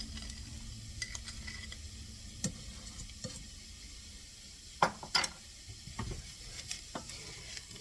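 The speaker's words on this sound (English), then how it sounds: "we want to toast the flour as it is for about a minute" Flour toasts in bacon grease in a pot while being stirred for a cheese, bacon and broccoli soup, with a quiet steady sizzle and a few sharp utensil scrapes and knocks near the middle, no talk.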